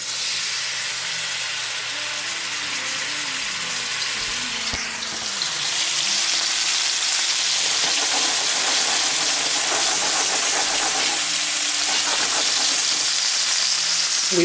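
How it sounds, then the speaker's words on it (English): Salmon sears in a pan on very high heat, giving a loud, continuous sizzling hiss. The sizzle swells noticeably partway through as the fish is laid down and then stays strong and even. "So I'm actually gonna increase the heat a bit because I wanna sear my salmon."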